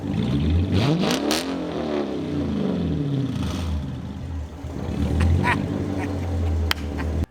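A Hemi-swapped Chrysler Monaco engine revs up and settles into a loud, close, rumbling idle with uneven rises in pitch, continuous throughout with a few sharp clicks near the end.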